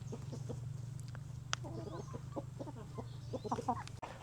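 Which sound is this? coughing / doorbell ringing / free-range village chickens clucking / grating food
free-range village chickens clucking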